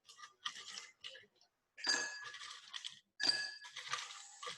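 Ice cubes dropped by hand into a glass for an iced espresso drink give a few clusters of bright, ringing clinks with short silences between them.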